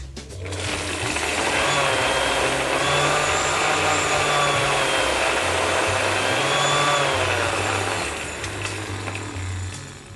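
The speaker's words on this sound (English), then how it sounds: "Once that's blended for about 10 seconds" A countertop blender runs continuously at a home bar, whirring loud and steady as it mixes a cocktail with pineapple juice for roughly ten seconds, its motor pitch wavering slightly before easing off near the end.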